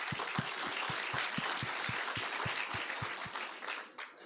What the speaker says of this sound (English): If you can all give them a round of applause, please.